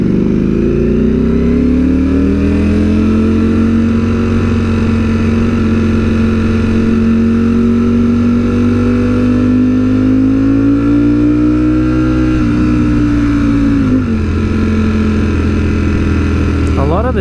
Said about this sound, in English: With this traffic.